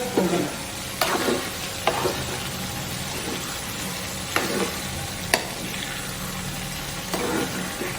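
Aloe vera pickle frying in hot oil in a North Karnataka home kitchen, a steady close sizzle with periodic clinks and scrapes of a spoon stirring the pan.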